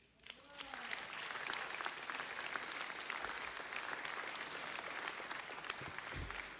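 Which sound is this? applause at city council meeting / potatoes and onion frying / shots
applause at city council meeting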